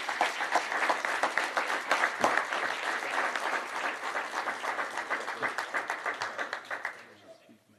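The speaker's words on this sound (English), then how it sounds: "please give them a round of applause" Audience applauds newly appointed Houston Fire Department command staff at a badging ceremony, a steady crowd of claps lasting several seconds before tapering off and ending abruptly.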